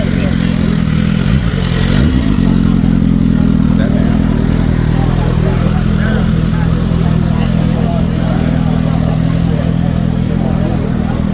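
A BMW RR motorcycle at a bike meetup, its engine rumbling loud and close with a revving surge early on, then a steady throaty drone as it rides by, amid crowd noise.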